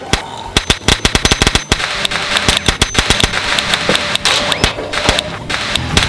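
A toy cap gun fires loud, close bursts of sharp cracking pops, rapid and uneven at first, then more spaced single shots, with a faint background hiss between.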